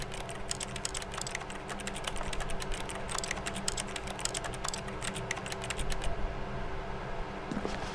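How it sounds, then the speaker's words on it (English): Rapid keyboard typing in the video game The Stanley Parable clatters steadily for several seconds over a low electronic hum, then stops. "you can hear typing on the keyboard"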